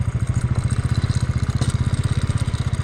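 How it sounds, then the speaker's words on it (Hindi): A motorcycle with worn-out shock absorbers rides slowly through a shallow water crossing in Ladakh, its engine thumping in a rapid, even low-pitched pulse with faint clattering above it, close and steady, with no speech. "बाइक के सोकर हो गए ख़त्म बिल्कुल, बड़ बोल रहे सोकर"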